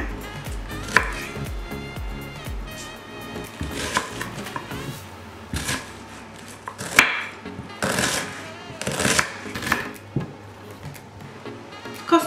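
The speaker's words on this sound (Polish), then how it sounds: "Obraną cebulę pokroję w kostkę." A knife dices a peeled onion on a cutting board, a run of quick close chops in bursts, some rapid and rhythmic, others spaced, with occasional heavier knocks and brief pauses; no speech.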